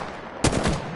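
A short, close burst of rapid gunfire in the video game Apex Legends, a sharp crack followed by a few quick repeated shots that then fade.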